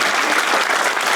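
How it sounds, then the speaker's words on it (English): A comedy club audience at a live stand-up show in Europe bursts into steady, dense applause, loud and continuous for the whole moment with no break. "Round of applause for the lady with the painter daughter."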